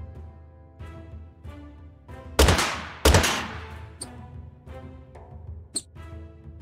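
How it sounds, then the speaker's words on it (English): In Totally Accurate Battle Simulator, a pair of loud, close gunshot blasts crack out a moment apart over tonal game music, followed by fainter clicks and hits. "so I can just shoot him."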